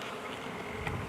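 Honey bees buzz steadily around hive frames, a dense close-up drone of many wings holding at an even level through the whole short stretch with no talk.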